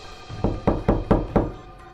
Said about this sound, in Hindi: तो मेरे दरवाजे पर कौन दस्तक दे रहा था?